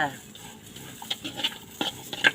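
Chilies, young and old mixed, stir-roasted in a pan for a Lao-style jaew dip, with scraping and clinking of a utensil against the pan in irregular bursts under a low sizzle.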